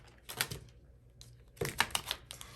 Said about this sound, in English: That was a flop of a shuffle.